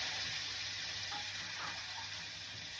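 Chicken for teriyaki sizzles steadily in a hot frying pan, a continuous close crackling hiss with small pops, constant throughout.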